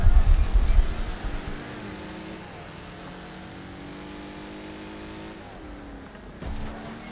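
A dented race car in Wreckfest drones through a track corner, its engine tone climbing and falling in long sweeps after a loud thump at the start, with a fresh rev near the end.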